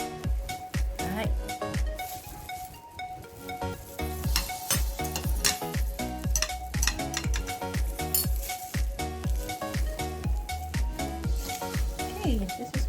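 A big spoon stirring and scraping a shepherd's pie mixture in a pan, with repeated close clinks and scrapes over a steady sizzle from the heat, and a person talking in between.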